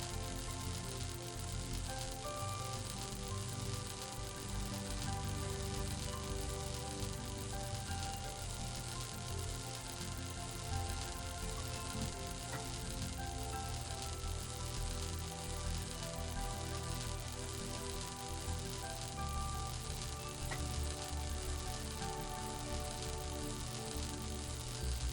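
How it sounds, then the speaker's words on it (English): Continuous sizzling in the puzzle video game The Talos Principle 2, a faint steady crackling hiss mixed with tonal game ambience, unbroken for the whole stretch with no talk. "There's a lot of sizzling."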